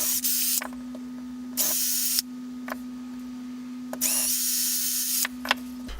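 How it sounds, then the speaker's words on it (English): Power sanding of wooden slingshot pistol pieces comes in several loud, hissing bursts of roughly a second each, separated by quieter gaps with a steady tonal hum underneath. "I'm just going to sand them down a bit so they're more ergonomic"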